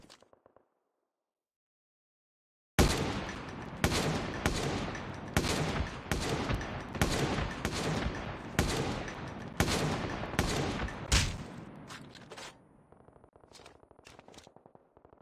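Video game weapon fire: after nearly three seconds of silence, a loud burst of rapid shots rings out in quick, irregular bursts, then tapers into softer trailing pops toward the end.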